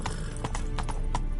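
Horse hooves clip-clop at a steady walking pace, several sharp, fairly close strikes in a short burst with no talk over them.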